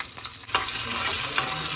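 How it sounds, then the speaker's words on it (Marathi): Tempering of mustard seeds, cumin, asafoetida and chili in hot oil for a Maharashtrian carrot-and-yogurt koshimbir, giving a loud, steady crackling sizzle with sharp spattering pops throughout. "आता एक जोरदार फुडणी करूयात मोहरी जिरं हिंग मिरची"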